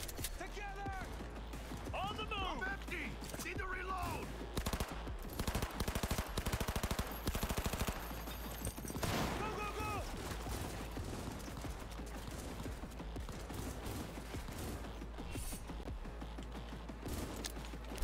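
Cyberpunk 2077 gameplay firefight: rapid automatic gunfire bursts rattle through a dense mix of shouted character voices and combat noise, with the heaviest volleys in the middle.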